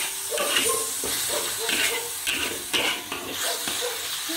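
Pig tongue stir-fried with garlic in a hot wok gives a steady sizzling hiss broken by regular scraping stirs and tossing, close and fairly loud, with no talk.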